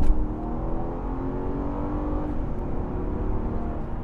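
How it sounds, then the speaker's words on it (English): A Mercedes-Benz CL500 V8 accelerates hard under load on a straight: a loud, steady engine roar with rising harmonics that holds for about four seconds, heard from inside the car with no talking. "just give it some gas. The engine sounds awesome."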